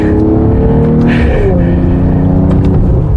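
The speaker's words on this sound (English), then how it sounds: "It really has a nice exhaust note." A 2020 Mercedes-AMG GT53 4-door coupe revs loudly and close by, with a deep, steady exhaust drone that rises in pitch partway through and stays dense throughout.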